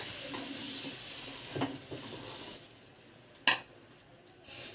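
A puffed rice (kurmura) dosa cooks on a pan over lowered heat, a soft sizzle that fades midway, punctuated by a couple of sharp metallic clinks of a utensil against the pan.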